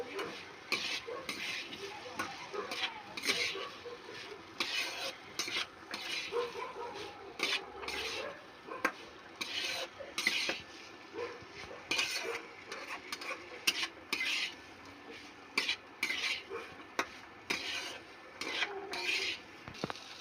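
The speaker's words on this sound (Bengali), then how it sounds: "এখন আমি সেদ্ধ করে রাখা আলু আর মটরটা দিয়ে দেবো আলু মটরটা এই মশলার সাথে এবার ভালো করে কষিয়ে নেব" Boiled potatoes and peas being stirred and fried in a spice mix for ghugni, a spatula scraping steadily around the pan with repeated rasping strokes over a soft sizzle, close and moderately loud.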